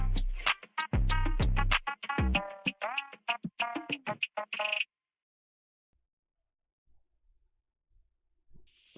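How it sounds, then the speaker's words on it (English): A stream channel-points reward sound effect plays as a loud burst of warbling, cartoonish squawks and chattering for about five seconds, then cuts to near silence. "That sound was Looney Tunes using one of the channel points rewards."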